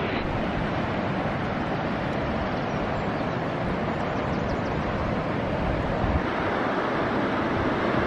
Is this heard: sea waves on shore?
yes